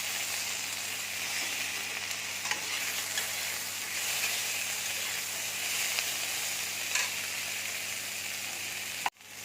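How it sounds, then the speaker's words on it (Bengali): Spices, melon seeds and tomatoes fry in oil in a pan for an egg curry, a close, steady hissing sizzle that runs continuously with faint stirring ticks, ending in a sharp clack. "চাল মগজ দিয়ে দিচ্ছি, একসাথে সব ভেজে নেব। এবার টমেটো দিয়ে দিচ্ছি"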